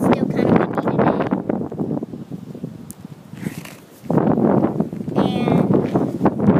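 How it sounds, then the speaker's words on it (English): Wind blows outdoors and buffets the microphone with a loud, low, gusty rumble that surges, briefly eases, then returns strongly. "It's still kind of windy today."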